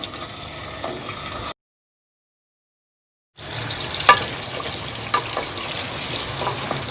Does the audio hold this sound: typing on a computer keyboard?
no